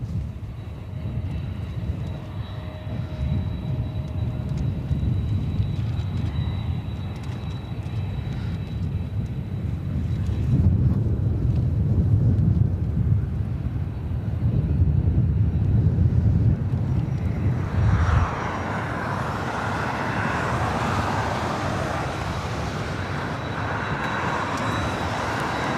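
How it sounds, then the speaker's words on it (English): Asiana Airlines Airbus A380 Super, flight 204 from Seoul, at LAX airport: a steady low engine roar that swells louder midway, then gives way to a brighter, hissing jet rush toward the end, with no voices. "this is flight 204 coming up from Seoul, Asiana Airlines, A380 Super"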